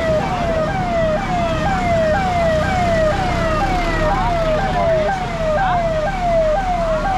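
A beach patrol police vehicle, a mini tractor, wails with a repeating up-and-down siren, loud and steady over continuous engine and road noise.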